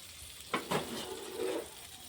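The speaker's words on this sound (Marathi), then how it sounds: "गॅसवरती आपण पॅन ठेवलं आहे पॅनमध्ये आपण बटर टाकलेला आहे" Butter sizzling in a pan on a gas burner for paneer makhni, a steady faint crackle with a couple of sharper stirring scrapes near the start, no talk over it.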